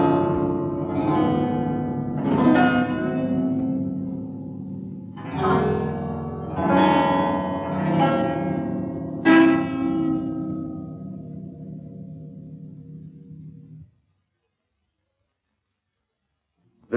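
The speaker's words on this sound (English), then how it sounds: "the kithara, with 72 strings of equal length, arranged in chords and with glass rods for playing higher tones" Harry Partch's kithara, with 72 equal-length strings arranged in chords and glass rods for higher tones, rings out in plucked chords with long resonant decays, several strikes spaced across the passage before falling silent.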